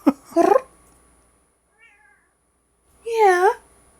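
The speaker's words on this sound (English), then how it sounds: "If it is able to be heard on this recording, I'll make sure people can hear the meow" A pet cat lets out two clear meows about three seconds apart, the second longer and rising, with a faint short mew between them in a quiet room; someone talks briefly near the start.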